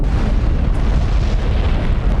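The Hiroshima atomic bomb blast comes through as a deep, sustained roaring rumble, loud and dense, with no break across the whole stretch.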